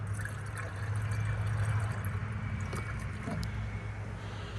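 Diesel anti-gel additive glugs from a bottle into the fuel tank of a 2021 Ford F450 Powerstroke, a faint, steady pour with a soft gurgle and no voices.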